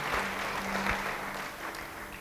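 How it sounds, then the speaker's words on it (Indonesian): A church congregation gives brief, moderately loud applause during a sermon, a steady wash of clapping across the hall with a faint tone underneath. "Yang percaya, beri tepuk tangan bagi dia."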